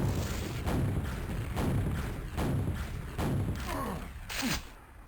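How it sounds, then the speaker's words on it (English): Rocket jump explosions in a 1v1 arena shooter tournament match: a rapid series of heavy booming thuds, roughly six in five seconds, each with a short decaying tail, dense and loud over game noise. "He makes his way to red with that rocket jump."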